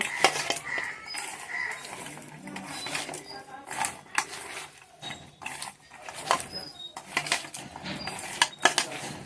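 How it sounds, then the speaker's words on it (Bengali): Fish is worked by hand in a bowl with garlic, coriander, chopped chilli, cumin, turmeric, chilli powder and salt, giving soft wet squelches and clattering bowl knocks under near-continuous talk. "জিরার গুঁড়া, হলুদের গুঁড়া, লঙ্কার গুঁড়া দিয়ে লবণ দিয়ে খুব ভালো করে মাছটা এবার মেখে নেব"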